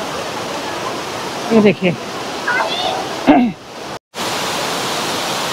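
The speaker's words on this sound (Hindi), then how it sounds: "कितना तेज झरना आ रहा होगा" A waterfall rushes with a constant, heavy hiss close by at Neer waterfall near Rishikesh, while someone briefly speaks over the roar.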